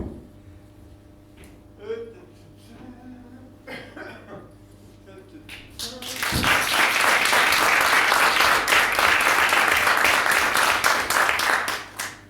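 Audience applause erupts in a small venue at a New Year's Eve singles show, a full steady round of clapping that swells after a few coughs and murmurs and then holds loud before tapering off.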